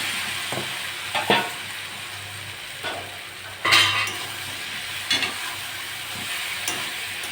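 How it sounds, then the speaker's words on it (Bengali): Jackfruit and potato stir-fried in oil with a cooked spice masala, a steady close sizzle broken by several louder scraping stirs of a spatula against the pan, no voices. "ভালো করে মশলা শুনে ভালো করে কষে নেব"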